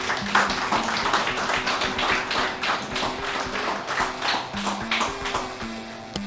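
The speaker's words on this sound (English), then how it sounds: "So huge round of applause," An audience claps at a corporate award ceremony in Dubai, a steady patter of many hands at moderate distance, fairly even throughout with no voices over it.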